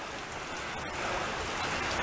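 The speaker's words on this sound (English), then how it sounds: "it started to rain" Steady rain patters densely on surfaces nearby, a constant hiss with no other sounds.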